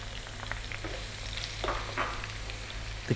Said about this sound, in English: We're going to fry these around for about 5 minutes or so.